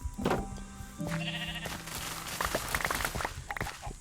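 Sheep in the farming video game BEE Village bleat in a few drawn-out calls near the start, followed by a steady patter of footsteps.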